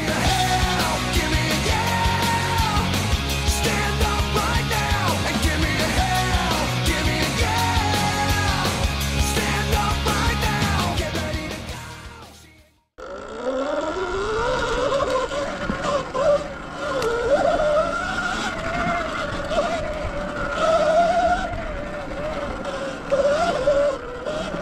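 A Sur-Ron Firefly X electric dirt bike rides a lap around a homemade garden track, a loud, close electric whine that rises and falls with acceleration, cutting out sharply midway before resuming with wavering pitch.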